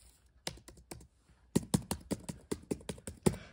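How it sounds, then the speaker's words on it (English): Fingers tap on a computer keyboard that is not working properly: a sparse few keystrokes, then a quicker run of sharp, close clicks in an uneven typing rhythm. "My keyboard isn't working."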